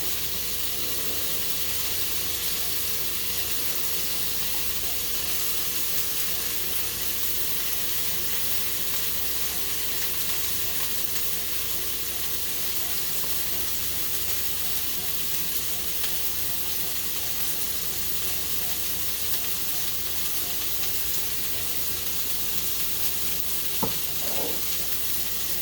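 Beef sears and caramelizes in a hot wok, giving a steady, loud, continuous sizzle with faint stirring scrapes, ending in a sharp clack near the end.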